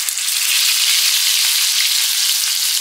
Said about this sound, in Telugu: మనం ఇలా 1-5 నిమిషాలు ఒక సైడ్ ఫ్రై అవనిచ్చి మరలా ఇంకొక 5 నిమిషాలు ఇంకొక పక్కకు తిప్పేసుకోవాలండి